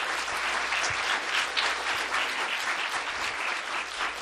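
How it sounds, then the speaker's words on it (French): Audience applause for physical education teachers at a La Baie borough council meeting, a steady dense clapping from a room of people that holds evenly throughout with no voices over it. "on doit applaudir vos profs d'éducation physique"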